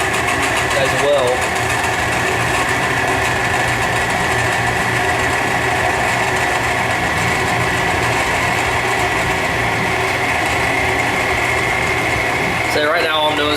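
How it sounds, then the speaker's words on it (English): A small metal lathe cuts down a half-inch rod to roughly a quarter inch for a scale F-14D Tomcat model, making a steady, loud motor whine with a high buzzing tone throughout and a brief clatter near the end. "all I'm doing is just cutting down the diameter of it from a 1/2 inch piece of rod down to a little around 1/4 of an inch"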